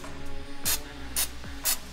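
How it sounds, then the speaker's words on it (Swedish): PAM cooking spray is sprayed into a donut pan in three short, sharp hissing bursts spaced about half a second apart, close and clear with no talking. "Använder PAM, jättesmidigt. Skakar och så ger vi en enkel spray"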